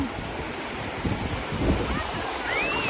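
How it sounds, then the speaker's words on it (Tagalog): Broad, steady rush of surf with wind buffeting the microphone, a couple of louder wave surges swelling midway through. "malaki na yung alon"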